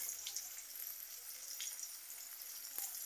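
Potatoes frying in oil in a pan, a faint, steady close sizzle with a few light pops and one brief clink, with no talking.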